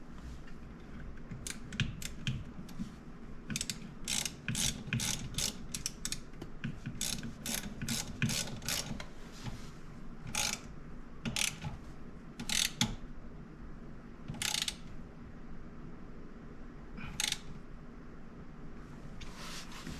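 Ratchet clicking while tightening down a part during clockspring and indicator switch work on an Audi S5 B9, quick irregular runs of sharp clicks close by, over a faint steady background hum.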